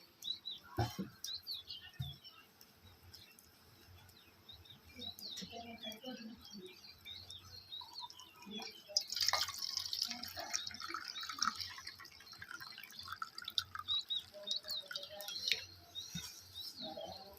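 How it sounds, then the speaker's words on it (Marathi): Water poured off grated potato trickles and drips into a container, with light splashing and scattered patter, fairly close, no talking. "ह्यातलं पाणी काढायचं आहे आपल्याला ओतून"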